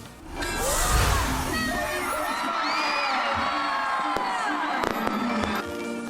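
Fireworks whistle and crackle overhead at a giant Christmas tree lighting in Marikina, Philippines, while a crowd cheers and shouts, with a few sharp pops standing out near the end.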